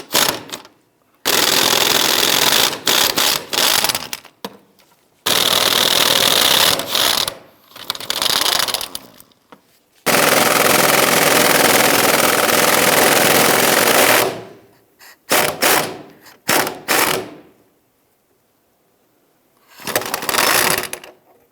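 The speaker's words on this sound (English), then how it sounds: "start removing the 3 bolts over here" Bursts of a power tool on the fuel tank strap bolts under the driver's side of a 1999-2004 Jeep Grand Cherokee, several loud rattling runs of a few seconds each separated by pauses, with shorter blips near the end.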